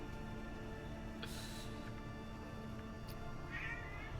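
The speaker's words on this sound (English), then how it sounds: "What you meowing about?" A house cat gives a couple of brief, faint meows over a steady background hum, with quiet gaps between the calls and no talking.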